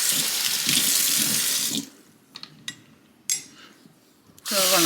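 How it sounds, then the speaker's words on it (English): Water pours steadily from a tap into a large cooking pot for a couple of seconds, followed by a few clinks and rustles, then a fresh burst of running water. "So we're gonna pour water in there."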